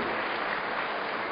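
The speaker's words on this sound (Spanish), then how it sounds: "Un fuerte aplauso, porque realmente esta es la integración, esta es la verdadera integración." Crowd applause at an official ceremony for a prefect taking office, a brief dense wash of many hands clapping at a steady level, heard alone without talk.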